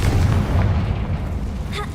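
A Confringo fire spell bursts in Hogwarts Legacy with a loud, deep, rumbling boom that rolls on for about two seconds before a faint higher crackle near the end.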